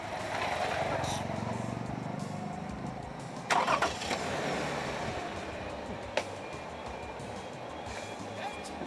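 A car engine is cranked over and catches, settling into a steady running drone with a couple of sharp clunks partway through, close by amid faint background noise.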